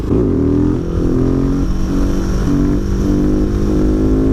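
A Husqvarna 701 Supermoto single-cylinder motorcycle is ridden with a loud, close engine note that rises through the revs and shifts in steps, with no voices over it.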